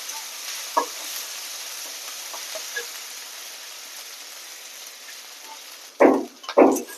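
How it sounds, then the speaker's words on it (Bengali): Ginger-garlic paste frying in goat fat in a pan: a faint steady sizzle with soft stirring clicks, then two loud scraping stirs near the end. "বাটা দিয়ে একটুখানি ভেজে নেব"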